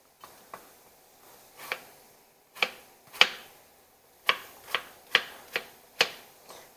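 Knife blade chopping a peeled apple into fine dice on a cutting board, a series of crisp, sharp taps in an uneven rhythm, close and fairly quiet, with no talking.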